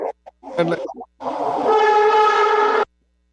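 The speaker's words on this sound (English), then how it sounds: "I'm at the stoplight and the train just went by" A train passes a road crossing and sounds a loud, sustained horn blast after a few brief sounds that may be a voice.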